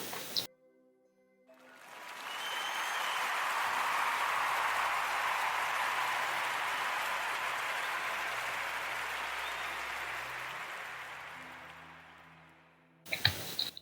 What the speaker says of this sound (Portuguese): a toda a gente uma salva de palmas, por favor.